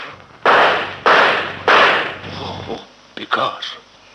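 Gunfire in a Hindi film scene: three sharp cracking shots spaced about half a second apart, then a few softer, quicker bangs trailing off.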